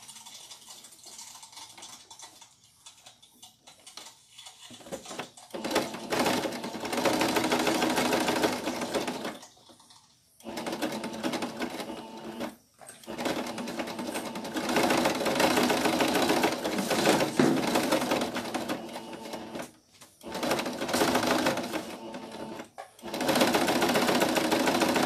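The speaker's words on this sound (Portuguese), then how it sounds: "Agora a gente vai passar uma costura aqui, ó." A sewing machine stitches a seam in several long, rapid whirring runs, broken by short pauses, heard up close and alone.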